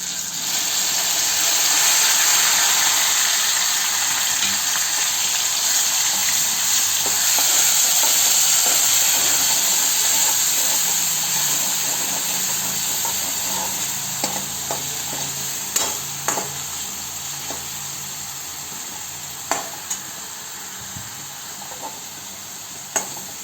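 A paste of ground green chili, garlic and cumin fries in a pan with coconut and garlic for spinach bhaji, a steady loud sizzle broken by stirring scrapes and clicks in the later part, no voices.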